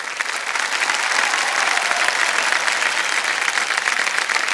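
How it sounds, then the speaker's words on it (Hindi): Loud, sustained applause from a studio audience fills the air for a contestant reaching first place on the leaderboard of the Hindi quiz show Kaun Banega Crorepati, steady and dense throughout. "जोरदार तालियां बज जाएं इनके लिए।"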